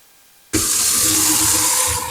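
A kitchen tap turns on abruptly and runs steadily over foraged aquascape materials being rinsed, a loud close broadband gush of water that continues to the end without talk.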